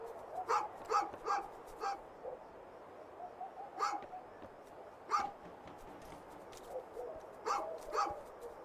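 A mutt barks in the game A Juggler's Tale, a series of sharp, moderately distant barks in short clusters separated by pauses, over quiet ambient background with no talk.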